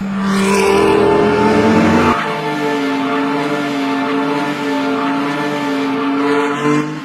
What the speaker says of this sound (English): He built a racing car with his own hands, a car that has everything we already know about other cars.